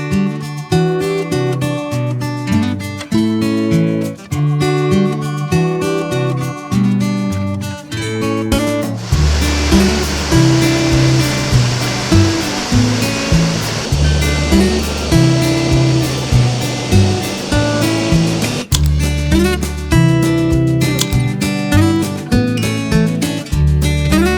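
A waterfall on Koh Chang tumbling over rocks, a steady loud broadband rush of water filling the middle stretch, with low flow noise continuing at both ends and no speech.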